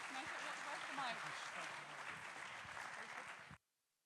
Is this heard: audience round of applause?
yes